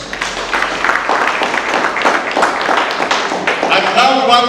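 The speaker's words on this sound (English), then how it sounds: "Can we give him a round of applause?" Audience at a Kisumu National Polytechnic strategic plan event applauding the keynote speaker, a steady dense clapping that builds slightly, with voices talking over it.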